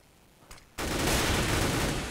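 Gunfire in the Counter-Strike video game on the de_dust2 map during a competitive match: near-silence with a faint tap, then a sudden loud burst of rapid shots that stays dense and sustained to the end.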